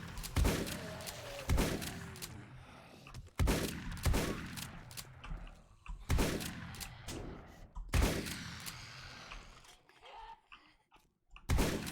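Shotgun blasts from a video game, Messiah-style farmer quest reward weapon, booming in four or five heavy separated shots every couple of seconds, each with a long decaying tail, loud and close with no talk over them.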